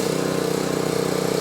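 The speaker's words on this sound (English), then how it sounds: "Is somebody literally mowing the lawn right now?" A lawn mower engine runs steadily outside after dark, a continuous droning hum with a buzzy mechanical tone, moderately loud and unbroken throughout.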